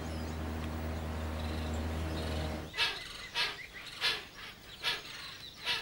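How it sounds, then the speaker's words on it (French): Hoatzin, a chicken-sized crested bird of the Orinoco delta, giving a series of about six rhythmic, breathy calls that follow a low steady drone. "Cet oiseau, appelé l'oasine, a la taille d'un poulet."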